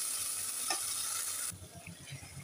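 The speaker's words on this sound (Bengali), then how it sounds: "সব মশলা দিয়ে দেবো।" Spice powders go into fried tomatoes in a hot pan for a mixed egg and lentil dish, giving a faint, soft sizzle with light scraping of stirring that eases down partway through, with no voices.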